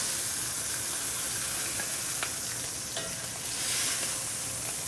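Rib-eye steaks sizzle and fry loudly in cast-iron pans with beef tallow, a steady dense hiss with faint crackles throughout, no voices.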